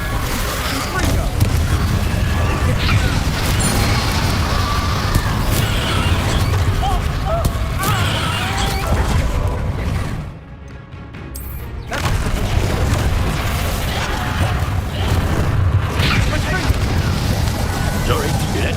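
Confringo blasting spell explosions in Hogwarts Legacy: loud, booming blasts over a dense, continuous roar of combat. The noise drops out briefly partway through, then surges back, and voices are present.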